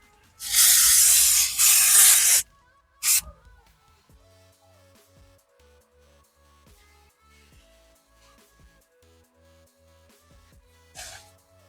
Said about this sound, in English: Spray both sides of it.